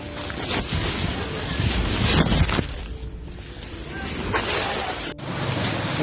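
Rushing flash-flood river current sweeping trail motorbikes downstream, a loud, broad roar of churning water with wind buffeting the microphone, continuous and close, with faint voices underneath.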